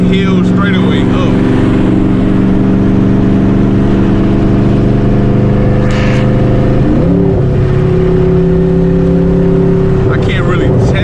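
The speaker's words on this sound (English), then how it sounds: "Let's see what it do. I'm about to eat this little hill straightaway up." A twin turbo Boss 302 Mustang running about 11 to 12 pounds of boost pulls hard up a hill, its engine droning loud and close with rising pitch, a brief shift, and turbo whooshes.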